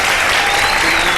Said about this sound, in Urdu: ہماری تینوں ٹیمز کے لیے بہت ساری تالیاں۔